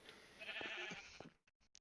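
A sheep in the video game Minecraft gives a short, wavering bleat, faint and brief, followed by a few small clicks.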